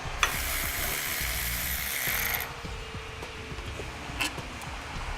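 A 10mm socket on a ratchet loosening radiator support bolts on a 2017 vehicle, fast rattling ratchet clicks up close and a continuous hiss, then quieter scattered mechanical clicks and taps.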